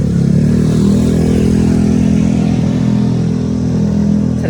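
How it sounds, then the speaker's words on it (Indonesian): A motorcycle with a very loud, noisy exhaust roars close by for several seconds, a heavy rumbling drone that holds steady without a break. "ada motor berisik banget knalpotnya"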